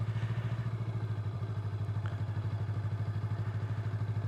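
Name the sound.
motorcycle riding during beginner U-turn and figure 8 drills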